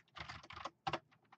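Keys clatter on a computer keyboard in quick bursts of close, crisp taps, with short pauses between clusters and a few isolated strokes at the end.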